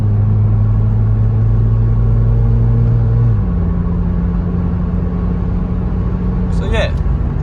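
First-generation Nissan Versa (2006-2012) accelerating normally on a road, a loud steady engine drone with a tone shift partway through, heard from inside the car.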